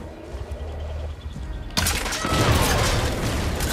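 Explosion followed by a burst of gunfire in the video game Far Cry New Dawn, a sudden loud broadband blast at about the midpoint that stays dense and rumbling with crackling shots, after a quieter stretch of low game ambience.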